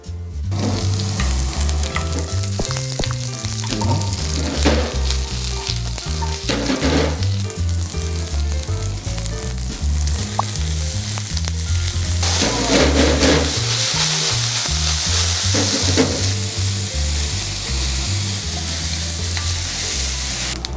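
Garlic fries in oil that has not yet come to a boil, giving a steady, loud sizzle with repeated stirring scrapes throughout and no talking.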